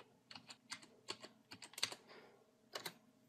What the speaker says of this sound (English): And now we type in the password again.